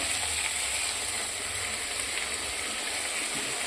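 Ginger garlic paste added to spiced yogurt masala for a Bengali prawn bhuna, frying with a steady, even sizzle and hiss at moderate level, with no talk over it.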